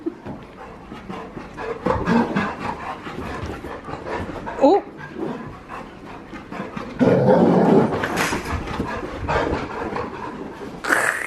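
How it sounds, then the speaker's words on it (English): A service dog pants and whimpers during excited bath-time zoomies, with splashy bursts and a voice speaking nearby. "You are a funny dog."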